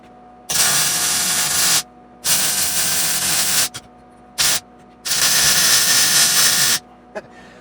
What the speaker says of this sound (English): I just laid a bead right next to where I needed to weld.